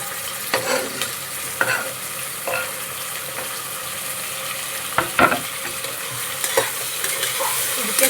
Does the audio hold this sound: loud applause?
no